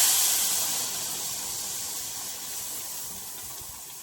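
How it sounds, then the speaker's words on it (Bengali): Red lentil dal goes into a hot pan of sautéed spices and sizzles, giving a loud, steady hiss that slowly eases over a few seconds. "এবার আমি ডালটা দিয়ে দেবো।"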